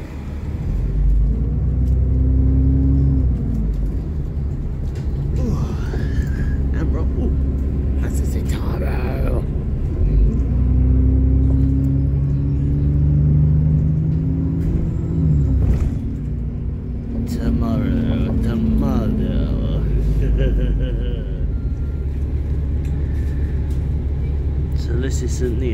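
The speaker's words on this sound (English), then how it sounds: "That's my bus right there." A 905 bus arriving at a stop in Cambridge, a loud low engine rumble that swells and settles as it pulls in and idles, with people talking over it.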